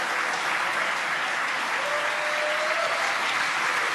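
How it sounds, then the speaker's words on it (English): Crowd applause behind a broadcast of a SpaceX Falcon 9 booster landing on the Crew-4 mission, a steady dense wash of clapping and cheering that holds evenly throughout, with a faint brief tone partway through. "You can hear the applause behind us."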